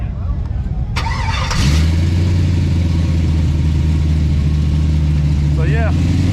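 An LS-swapped Chevrolet C10 truck on 20-inch wheels cranks over and catches, then settles into a loud, steady, close idle with a deep even drone.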